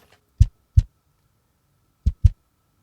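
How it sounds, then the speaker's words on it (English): Two pairs of deep, punchy kick drum hits, isolated with silence between them, each a quick double thump. "Let's listen to the kick with the samples muted."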